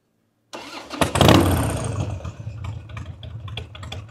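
Carbureted 2003 Harley-Davidson anniversary Wide Glide engine starting: a short starter crank catches into a loud, close roar that settles into a lumpy, uneven idle.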